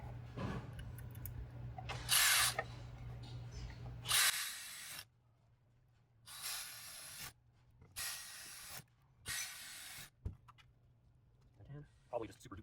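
Bursts of spray paint hissing from an aerosol can onto an LMG gun part in a bumblebee colour scheme, several separate sprays of one to two seconds each with short pauses between, close and fairly loud over a low steady hum.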